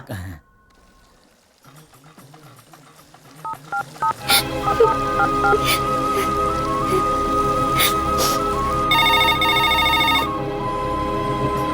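A telephone rings with a steady electronic tone pattern, fairly loud and continuous after a quiet opening, with a brighter high-pitched stretch near the end.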